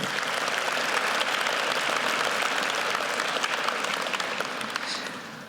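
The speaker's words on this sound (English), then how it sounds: "I want a big round of applause for our student athletes" A crowd applauds student athletes at a university championship fundraiser breakfast, steady sustained clapping from many hands that holds evenly and thins out slightly at the very end.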